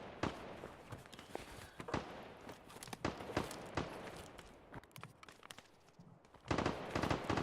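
Shotgun blasts in the video game Escape from Tarkov, several sharp, widely spaced reports over a busy background of distant gunfire, with a louder cluster of shots near the end.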